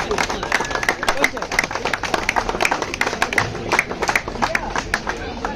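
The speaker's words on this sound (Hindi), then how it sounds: "चलो जोरदार तालियां" An audience at a colony cricket match event claps for a sponsor, with rapid uneven applause mixed with crowd babble and a voice talking over it.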